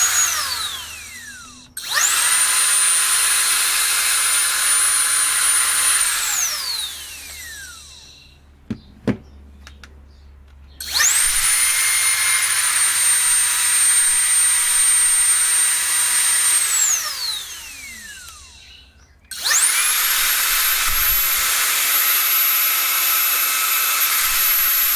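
Cordless HiKOKI/Makita dust blower (AS001G/GSA01) spinning up to a loud, steady high-pitched whine, running in three long bursts, each winding down as it stops, with brief quiet gaps between.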